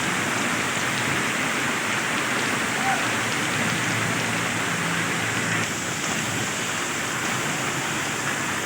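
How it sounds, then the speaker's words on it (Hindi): Heavy rain falls steadily over a Kashmir valley market, a dense, continuous hiss that stays at an even level with no clear voices. "बहुत जनाब तेज़ बारिश लगी है"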